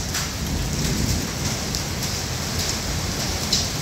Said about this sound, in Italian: Grandine a pieno.